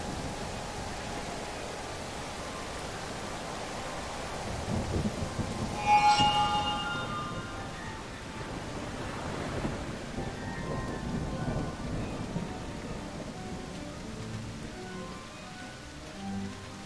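Steady rain pours in the video game Genie Remake while thunder rolls and cracks, with a sharp, loud clap partway through followed by long rumbling that fades under the continuing downpour.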